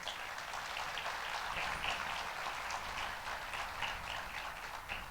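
Audience applause at the Women with Drive opening remarks during the PRI trade show, a dense, even patter of many hands clapping at moderate distance, sustained across the whole stretch.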